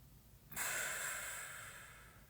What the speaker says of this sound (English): I'll invite a deep breath in and a clearing breath out